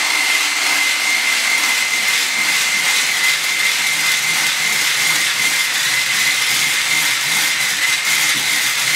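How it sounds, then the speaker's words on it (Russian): An electric mixer whips a protein shake in a home kitchen, a steady, loud whirring drone with a high whine that holds unchanged for the full nine seconds, no speech. "Быстренько все это взбивается. Миксер."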